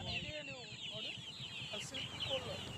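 Backyard Silkie chickens cluck softly, with repeated quiet clucks and chirps at a moderate distance and a faint voice in the background.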